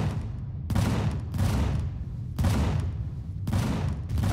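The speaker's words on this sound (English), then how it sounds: "Okay, so I should be firing only at turrets." Gunfire in the Empyrion space survival game, aimed at enemy turrets, comes in four heavy, rumbling bursts about a second apart, each a dense rattle of rapid shots that is loud and close.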